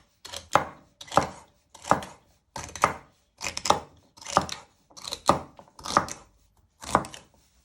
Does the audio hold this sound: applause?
no